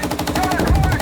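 Rapid machine gun fire from an M1 Abrams in Gunner HEAT PC, a fast, loud, evenly spaced burst of shots with a heavier thump near the end.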